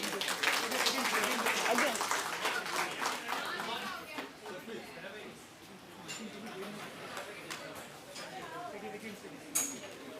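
A crowd claps to welcome dignitaries onto the dais at a chemistry department workshop's closing function, loud at first and then thinning into scattered claps mixed with chatter and clinks.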